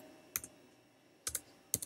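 Someone types on a computer keyboard in quiet surroundings, producing three brief clusters of crisp key clicks separated by short pauses, faint and close, with no speech.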